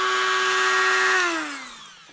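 A small electric chainsaw sharpener grinds a chainsaw chain with a steady high whine that winds down in pitch as the motor stops, close and fairly loud, with no talking.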